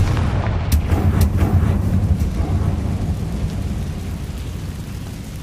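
A Confringo spell blast in Hogwarts Legacy erupts as a loud, rumbling explosion with a sharp initial burst, then a long, thundery roll that slowly fades over several seconds, with no voices.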